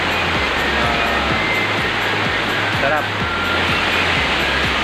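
Water flowing at a river swimming spot in San Mateo, Rizal, a constant rushing wash with a steady rhythmic low thumping beneath, while someone talks over it briefly.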